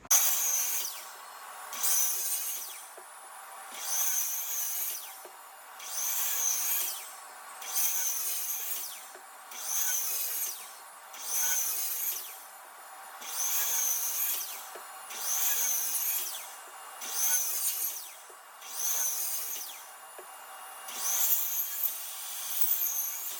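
A hand saw cuts wood in a steady back-and-forth rhythm, about a dozen regular rasping strokes, close and fairly quiet.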